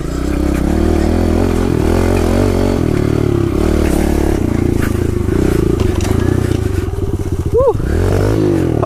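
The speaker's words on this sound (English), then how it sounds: "Oh no, not the neutral. Not the neutral rev." A pit bike engine in neutral revs hard and loud up close, its buzzing drone rising and falling in quick throttle blips and dropping off near the end, with people talking over it.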